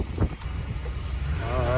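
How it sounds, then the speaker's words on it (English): Wind rushing through the open windows of a vintage RV cab while driving, a steady broad roar with low rumble from the road and engine, loud and continuous close to the microphone. "It's actually windy in here because I got all the windows open."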